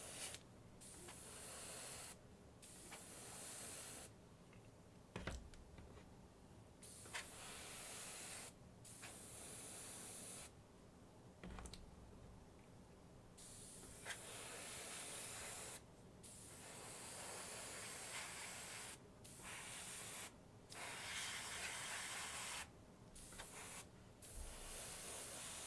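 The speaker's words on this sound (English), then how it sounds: "Doing the airbrush, you can get so much done so quickly." Airbrush hissing paint onto a large miniature model in repeated spray bursts, a soft close hiss broken by short pauses between passes.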